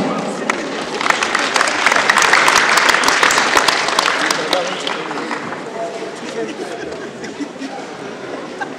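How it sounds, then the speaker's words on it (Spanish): Loud, dense applause from a crowd at a municipal change-of-authority ceremony in Yosoyúa, swelling and then tapering off while murmured voices carry on underneath. "Vamos a recibirlo con fuertes y calurosos aplausos."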